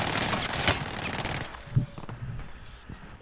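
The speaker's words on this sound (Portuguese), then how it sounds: "Ó, tá atirando em mim." Rapid automatic gunfire in Call of Duty: Modern Warfare, a dense burst of shots up front that thins into scattered sporadic pops and thuds, fairly loud and alone.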